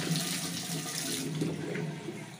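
Running tap water rinses a plastic toilet cistern part from a leaking commode flush tank, a steady, soft splashing flow that continues evenly with no voices.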